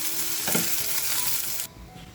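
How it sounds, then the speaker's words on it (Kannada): Onion and garlic frying in a pan, a steady broadband sizzle that runs loud for most of the moment, then drops sharply to a quieter hiss near the end as the heat is cut. "ಈ ಥರ ಈರುಳ್ಳಿ ಮತ್ತು ಬೆಳ್ಳುಳ್ಳಿನ ಫ್ರೈ ಮಾಡ್ಕೊಂಡಿದ್ದೀನಿ"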